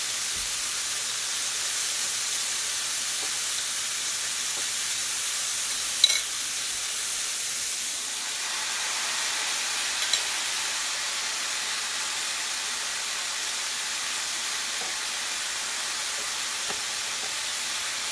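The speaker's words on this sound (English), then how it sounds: "We're just going to fry our steak up" Steak frying in a pot during farm cooking, giving a steady broadband sizzle and hiss throughout, with a few faint clicks and light stirring sounds and no talking.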